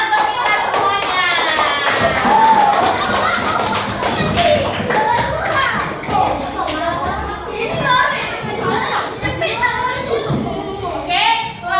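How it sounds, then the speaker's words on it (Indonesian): Schoolchildren in a classroom clap their hands in a quick, rough burst, with lively children's voices and chatter running over the clapping throughout. "tepuk tangan untuk kita semuanya"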